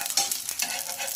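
Moong dal tikki frying in oil on a nonstick tawa, a close, steady sizzle with brief scraping and stirring touches, no voices.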